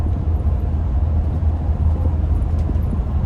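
Class B RV cruising on a bumpier non-highway road, a steady low rumble of engine and road noise inside the cabin, constant and close with no distinct jolts.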